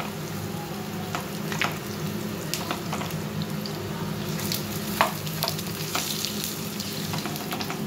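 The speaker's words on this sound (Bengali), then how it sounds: "এরকম ভাজা করে কড়কড়ে করে একটু কম আঁচে করে ভেজে নিচ্ছি" Bitter gourd leaves frying crisp over low heat in a pan, a steady close sizzle with scattered crackles and pops throughout, no talking.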